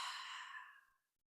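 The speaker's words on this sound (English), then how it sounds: "gently letting all the air out through the mouth." A single slow breath pushed out through the mouth during meditation, soft and breathy, fading gradually into silence.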